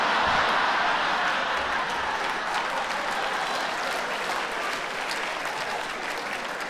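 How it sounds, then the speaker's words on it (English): A comedy show audience claps in a dense, continuous wash of applause that starts loud and eases only slightly toward the end, with no speech over it. "Clap your hands, other foreigners in the room, clap."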